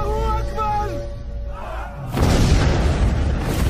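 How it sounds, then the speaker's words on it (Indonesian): A suicide bomb blast in a Taliban war drama erupts as a loud, rumbling broadband roar that cuts in abruptly after a tonal, voice-like stretch, then sustains a dense crackling rumble to the end. "tiba-tiba ada pasukan Taliban dengan badan penuh bom meledakkan dirinya"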